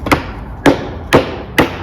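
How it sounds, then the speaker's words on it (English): Small hand hammer tapping a wooden clamping board made from 2x4s, four sharp, evenly spaced knocks, close and fairly loud, with no voices. "Get a little hammer like this."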